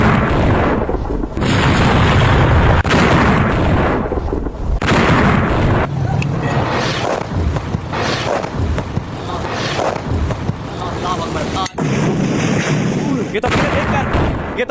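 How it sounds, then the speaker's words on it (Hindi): Missile strikes exploding in Pakistan, heavy booms and blasts following one after another, loud and dense, with a voice speaking over the din throughout. "पाकिस्तान में एक के बाद एक आतंकियों के ठिकाने पर मिसाइल आकर गिरी।"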